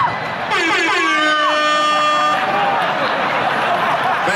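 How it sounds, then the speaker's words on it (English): A loud air horn blasts at a comedy show, starting about half a second in and holding for two seconds before fading into crowd noise and laughter. "That air horn always pushes the joke through."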